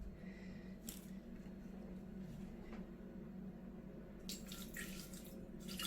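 Water streams steadily from a kitchen tap into a glass, a faint continuous trickle with a few brief clinks and rustles near the end, no voices.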